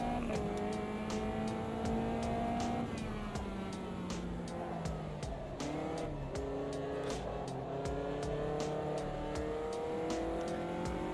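Race car in the sim racing game Automobilista 2 lapping a foggy Donington Park, engine revving steadily up and down through gear changes, loud and continuous with tire noise, no talk.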